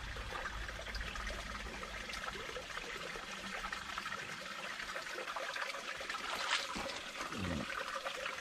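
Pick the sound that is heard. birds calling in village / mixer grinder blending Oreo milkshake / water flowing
water flowing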